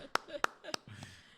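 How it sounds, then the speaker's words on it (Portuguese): Three sharp, evenly spaced hand claps ring out close by in a studio, followed by a faint voice and quiet room tone. "Bater uma salva de palmas pro Kio, né?"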